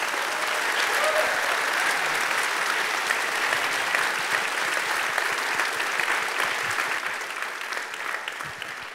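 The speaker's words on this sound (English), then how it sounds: "Please join me in giving them a round of applause for a terrific film." An audience applauding after a film screening and panel, sustained many-handed clapping that stays loud and fades slightly toward the end.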